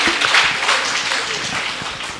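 An audience at a bait bazi poetry recitation contest at a madrasa in Aurangabad applauds with loud, dense, continuous clapping that tapers slightly toward the end.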